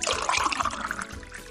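Water pours steadily into a glass container, a short continuous splashing trickle heard alone and fairly close.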